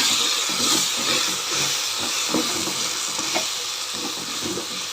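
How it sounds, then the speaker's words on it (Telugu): Okra fry with masala being stirred in a hot pan, a steady sizzle and hiss with irregular scraping and clinking strokes of the spoon, close and continuous with no talking. "ఇప్పుడు కలిపేస్తాను మొత్తం బాగా కలిపేలాగా కలిపేసుకున్నాం"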